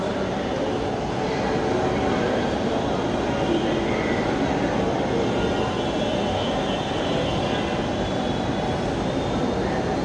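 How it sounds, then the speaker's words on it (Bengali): A Dhaka metro rail train at Mirpur 10 station produces a steady, even rumbling hum, moderately loud and continuous for the whole stretch, without voices. "এটা হলো metro rail, Bangladesh metro rail station Mirpur 10।"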